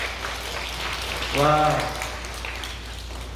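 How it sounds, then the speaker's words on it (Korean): A church youth group at a praise and prayer meeting claps together, making a steady rain-like patter of many hands throughout, with a short vocal cheer rising briefly in the middle. "찬양기도회 준비하시는 우리 성김이들 위해서 박수 한번"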